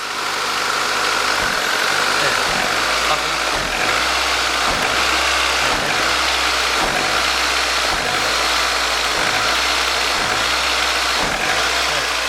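Ford Escort engine runs with a broken gearbox mount, a loud close idle with a steady rhythmic thumping and knocking pulse throughout, lightly revved as the car is shifted back and forth.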